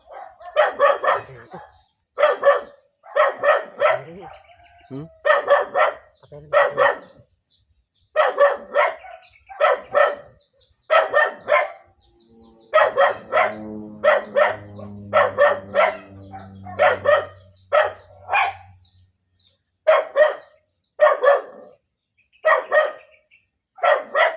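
A dog barks repeatedly in steady bursts throughout, fairly close, with a brief low rumbling sound partway through.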